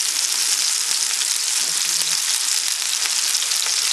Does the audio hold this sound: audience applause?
no